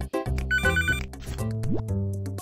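Telephone ringing in the cooking game Papa's Bakeria, a bright electronic ring rising over cheerful background music, loud and close with no talk.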